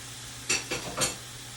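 Meat frying in a number 8 frying pan while a pizza tortilla is made, giving a steady faint sizzle broken by three short stirring or scraping bursts, close by and with no talking.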